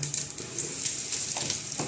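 Asafoetida and carom seeds sizzle in hot oil while cooking Kathiyawadi dhokli curry, a steady close crackle and hiss running throughout, with a few brief spatters.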